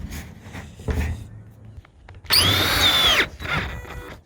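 A power drill whirs loudly for under a second, with a few knocks and handling sounds before and after.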